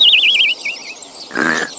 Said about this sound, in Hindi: बच्चों को ढूंढ रही बकरी ने उसके खर्राटे सुने।